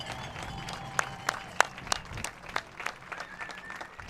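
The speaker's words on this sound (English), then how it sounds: "how about we make some thunderous applause for all of our seniors tonight" Crowd at a high school football game between the Abington Ghosts and the Pennsbury Falcons applauds the seniors, with steady clapping and scattered sharp claps and cheers close by.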